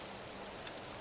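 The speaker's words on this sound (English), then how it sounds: "And it's raining somehow" Steady rain falling in the driving game American Truck Simulator near Las Vegas, a dense continuous patter of drops on the truck with no break or voices, faint and even throughout.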